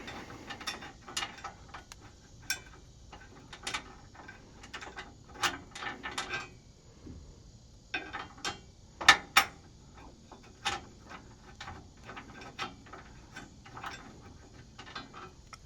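A bolt being worked on a car, heard as a series of sharp mechanical ratcheting clicks in irregular bursts, close and moderately loud, with a short pause midway and no talk.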